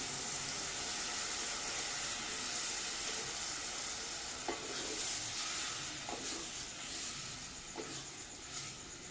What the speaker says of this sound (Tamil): புளி கரைசல் ஊற்றிக்கலாங்க